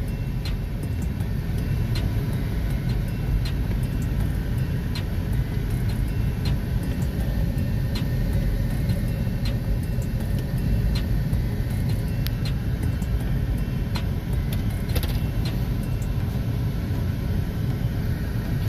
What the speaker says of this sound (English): we about to go for a ride in the Escalade